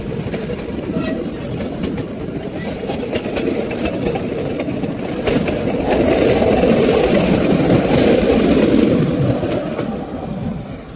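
A train rumbles steadily past nearby, its engine droning and wheels clattering, swelling louder midway before easing off.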